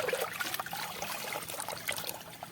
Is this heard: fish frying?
no